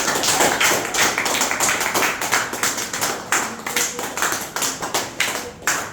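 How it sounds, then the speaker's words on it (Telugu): An audience at an ashram claps steadily and loudly for several seconds, a dense patter of many hands with no voices over it. "అందరూ ఒకసారి క్లాప్స్ పెట్టండి"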